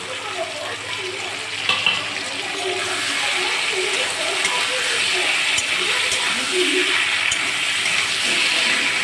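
Ginger and garlic paste sizzling in hot oil in a pan for a prawn dish, a loud, continuous hissing fry that swells slightly as it goes on, close by.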